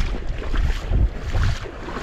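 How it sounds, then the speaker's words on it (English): Strong wind gusting at a sea shore where gill nets are set for commercial fishing, buffeting close to the microphone in rough, uneven bursts with no one speaking. "It's super windy today"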